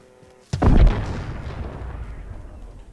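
A bomb explodes in Call of Duty Modern Warfare, one sudden loud boom after a quiet moment, its deep rumble trailing off slowly over the next two seconds.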